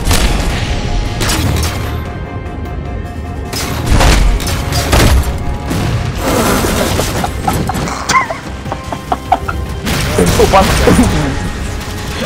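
Gunfire and blasts in a Halo 4 campaign session come as heavy booms and scattered crackling shots, loud and close, while players talk and laugh over the action.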